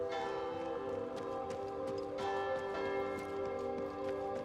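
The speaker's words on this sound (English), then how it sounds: "The church bells are going absolutely insane." Church bells ring on and on in a sniper video game, layered ringing tones with repeated strikes blending into a sustained, moderately quiet wash.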